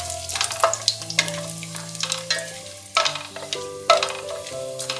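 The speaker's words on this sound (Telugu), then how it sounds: "ఈ నూనె వేడైన తర్వాత దీనిలో హోల్ గరం మసాలా వేసి దాని అరోమా బయటకు వచ్చే వరకు వేయించుకోవాలి" Whole garam masala spices crackle in hot oil and ghee, close and lively, with stirring clinks and scrapes breaking up the steady sizzle.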